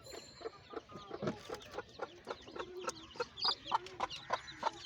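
A mother hen with twelve chicks hatched the day before clucks softly in a farm coop on a rainy day, giving a string of short, rhythmic clucks mixed with high chick peeps. The sounds are close and fairly faint.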